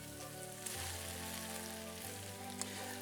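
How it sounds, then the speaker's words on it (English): Italian sweet sausage hits a hot pan, giving a steady close sizzle and crackle that holds throughout, with a faint low hum underneath. "Now we're gonna add in all of that Italian sweet sausage."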